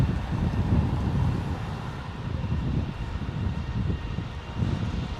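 Airliner engines at takeoff thrust at Heathrow Airport, a steady broad low roar with rumbling wind-like noise that stays even throughout, heard from inside without talk.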